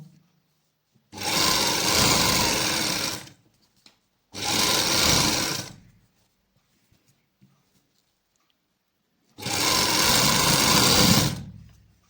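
A sewing machine stitching a straight salwar runs in three separate bursts of about two seconds each, close and loud, with quiet pauses between.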